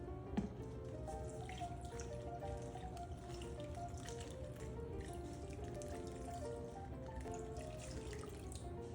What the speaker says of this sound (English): add water to almost cover roast. I'm going to be doing 2 cups at a time.